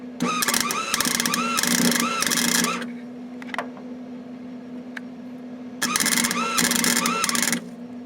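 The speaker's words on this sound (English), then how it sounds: "what you saw there was just a little bit of welding that I did" Welding tacks go onto a Nissan 300ZX project car in two long crackling, buzzing bursts separated by a quieter pause with a few faint clicks, close by and loud.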